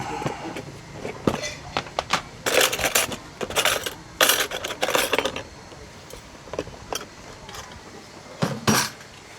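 Metal spoons clink and clatter in scattered bursts, some sharp and close, amid rustling and handling noise across the whole stretch, at a Javanese food stall.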